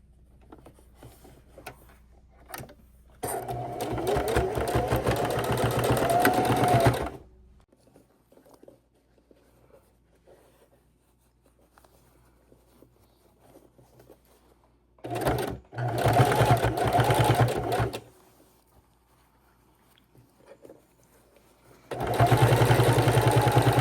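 A sewing machine stitches quilt binding in three runs of rapid, steady close-up whirring, separated by near-silent pauses.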